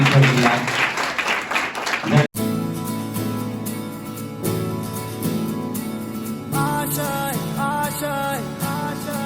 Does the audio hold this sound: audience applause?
yes